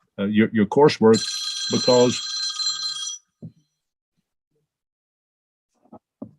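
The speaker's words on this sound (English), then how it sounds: "you can tell I'm old fashioned with that ringtone" Old-fashioned telephone bell ringtone trilling loudly for about two seconds, overlapping a man's speech before and during the ring, then near silence with a few faint thumps.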